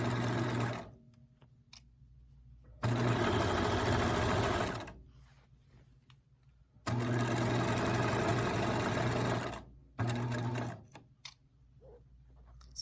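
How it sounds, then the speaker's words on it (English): Sewing machine stitching lounge pants fabric along a curved seam, running in three loud, steady bursts of a few seconds each with short quiet pauses between. "As you're sewing, always check to make sure your edges are together."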